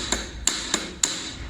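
A hammer taps a ceiling fan base four times in quick, evenly spaced, close metallic knocks with a ringing edge.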